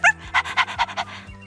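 A dog pants close by in a quick run of about six rhythmic breaths that fade toward the end.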